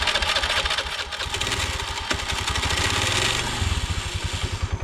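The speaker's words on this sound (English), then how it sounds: "let's see if my bike starts nicely" A motorcycle on Samal Island in the Philippines starts up and settles into a steady, close, throbbing idle with a brief throttle blip along the way.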